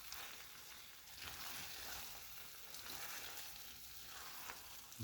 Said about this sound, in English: Just about like that. And just keep stirring. Just keep moving it around.